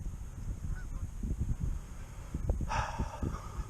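Wild geese fly over a wood duck hunting spot, giving a few scattered honks at moderate distance amid low rustling and handling noise close by.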